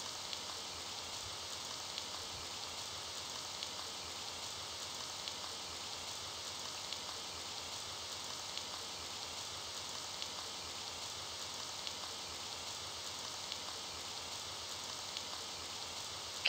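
Rain from the video game The Dark Side of Little Red Riding Hood falls in a constant, soft hiss, unbroken and evenly textured, with no voices or other sounds over it.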